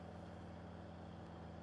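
Steady, low idling drone of a Case tractor engine in Farming Simulator 19, a continuous even hum with no talk over it.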